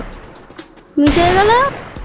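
A sharp burst of video game gunfire erupts midway, with a ringing tonal sweep trailing after it, following a few faint soft clicks.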